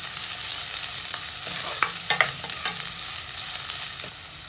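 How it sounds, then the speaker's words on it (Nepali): Garlic and onion frying in a pan for asparagus soup, giving a loud, steady hiss of hot oil with a few sharper spatters and stirring clicks near the middle, close up and continuous. "अब लगाउने लसुन अनि प्याज, यसलाई एकैछिन पकाउने"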